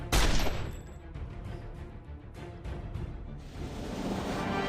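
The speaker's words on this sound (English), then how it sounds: "We'll use the needle gun to finish it off" A needle gun fires in the Marvel Avengers Alliance video game: a loud sharp initial blast followed by a series of rapid rattling shots that fade and repeat, close and prominent.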